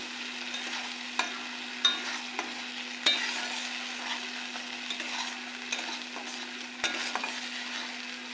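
Spice mix for vegetarian chana masala fries in a pan with a steady sizzle while a utensil scrapes and clacks against the pan in irregular sharp knocks, close and alone.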